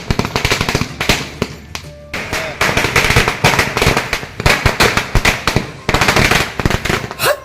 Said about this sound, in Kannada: ಪಟಾಕಿ ಸಿಡಿಸಿ ವಿಜಯೋತ್ಸವ